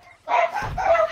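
Dogs in a Fortnite Chapter 3 match barking, two close, loud bursts of barking in quick succession against a quiet background.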